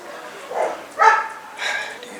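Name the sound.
dogs barking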